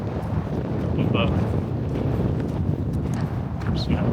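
Steady, loud wind buffeting a microphone outdoors in Iceland, a continuous broadband roar with gusty swells and no pauses throughout.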